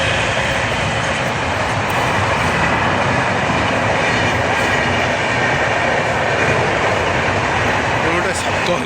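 A train runs along a railway line in a loud, steady, broadband rumble that lasts throughout, with faint rhythmic clatter and voices mixed in beneath it.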